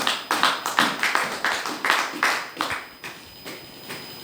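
A church congregation applauds the Lord, with sharp rhythmic clapping in quick, steady beats that soften and trail off toward the end.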